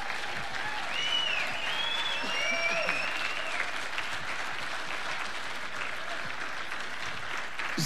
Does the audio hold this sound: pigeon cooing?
no